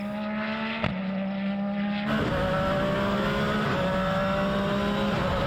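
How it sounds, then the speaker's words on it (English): Ken Block's Hoonipigasus, an all-wheel-drive race car, drives with a sustained engine drone whose pitch steps up through revs, steady and moderately loud with a brief sharp click near the start. "Yeah, it sounds like a race car."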